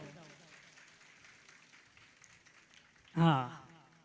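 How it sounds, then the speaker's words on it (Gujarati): Applause from the audience at a religious gathering, a Bhagavat Katha recital, bursts out loudly and briefly near the end after a stretch of low background murmur. "એકવાર જોરદાર તાળીઓથી અમને વધાવો"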